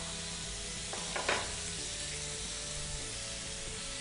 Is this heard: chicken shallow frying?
yes